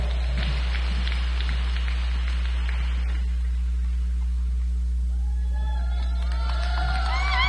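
Crowd cheering and whooping at a county 4-H fair pageant as the new fair queen is crowned, a dense roar of voices for the first few seconds that thins out, with scattered high whistles and shouts near the end over a steady hum.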